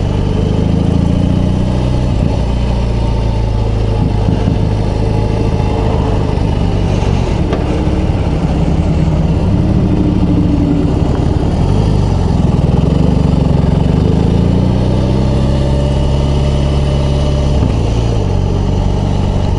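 A BMW R18 B bagger motorcycle engine runs at low revs, a loud steady throbbing rumble that rises and falls slightly throughout, with no voices.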